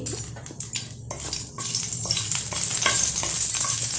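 Loud, steady sizzle of hot oil crackling as dried red chillies are tempered and stirred in a pan, with clinks of a spoon against metal.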